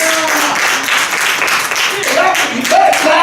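Dense applause from a crowd listening to a preacher, steady and fairly loud for a few seconds, with a voice talking over it.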